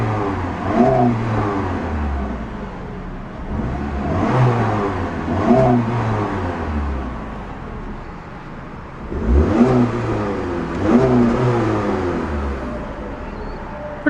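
Engine of a 2008 Chrysler PT Cruiser revved repeatedly up to its rev limiter, several rising and falling surges with an idle between, close and steady with no voices.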